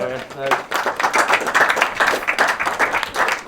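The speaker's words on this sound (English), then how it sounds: "Round of applause." Applause at a pheasant shoot gathering for the best-shot award, a group clapping outdoors for a few seconds while someone speaks briefly over it.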